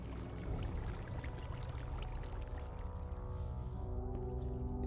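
Water flows steadily out of a pipe in Minecraft, a continuous low rushing and pouring that stays even and fairly quiet throughout, with no talking.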